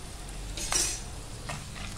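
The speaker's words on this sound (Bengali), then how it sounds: "এটা হলো লেমন রাইসের ফোড়ন।" Dried red chillies, curry leaves, chana and urad dal, peanuts, cumin and mustard seeds temper in hot oil for South Indian lemon rice, a soft sizzle with a louder crackling burst and faint utensil clinks, no voices.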